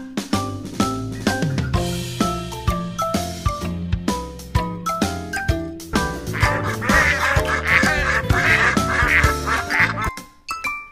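Ducklings quack in short repeated bursts over a bright, bouncy children's music backing, the quacks clustering loudly toward the end.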